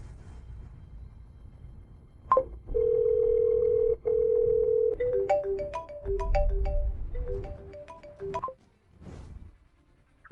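During a phone call, a steady electronic tone holds for a couple of seconds before breaking into a bright, melodic ringtone pattern of repeating notes, then it cuts off into near silence.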